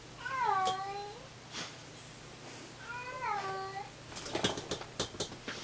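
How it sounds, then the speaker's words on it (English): A pet cat meows indoors in two drawn-out, falling calls a few seconds apart, close and fairly soft, followed by light rustling and tapping noises. "My cat's decided to come in, say hello."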